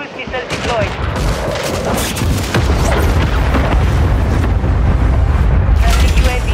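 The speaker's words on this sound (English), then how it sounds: "Friendly cruise missile deployed." A cruise missile strike in a Call of Duty team deathmatch: loud, sustained booming blasts and rumbling detonations mixed with gunfire, growing heavier and steadier in the second half.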